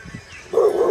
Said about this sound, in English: Here's the video of her barking at it.